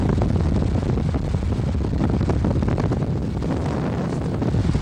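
A steady, loud roar of rushing wind fills an acoustic wind tunnel testing a motorcycle helmet without pause, broad and turbulent like a gale indoors.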